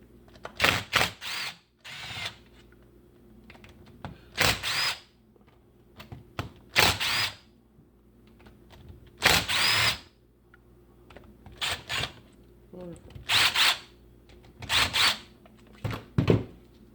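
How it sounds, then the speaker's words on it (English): Torx screws backed out of a Milwaukee Sawzall reciprocating saw with a power driver: about a dozen short, close whirring bursts in an uneven rhythm, separated by brief pauses, with no talking. "next I'm going to take out the screws here, here, here, and here. They use a Torx bit"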